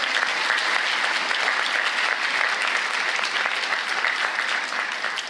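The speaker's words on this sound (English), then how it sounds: "let's have a round of applause for all you long-term gamers" A crowd at a PAX Unplugged convention panel gives a round of applause, a dense, even wash of clapping that fills the whole span at moderate volume from a large room.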